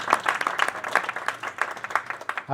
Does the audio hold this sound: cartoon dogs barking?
no